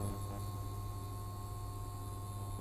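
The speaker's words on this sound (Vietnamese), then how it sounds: "Nó có kêu nhưng mà cái tiếng kêu nó phát ra không to." An induction cooktop heating a pan with a flat magnetic base, giving off a steady, quiet electrical hum with a faint high whine, constant and unchanging throughout.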